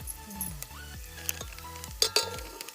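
Ground mutton masala tipped into garlic and coriander frying in a pan over a wood-fired chulha, with soft sizzling under repeated metal clinks and scraping of a spoon against the vessel.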